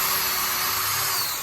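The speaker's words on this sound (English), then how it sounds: "We'll drill a hole in here after we're done drilling all of our pockets" A power drill bores a pocket hole into wood for a dresser base, a brief, loud, steady high-pitched whine up close with no talking.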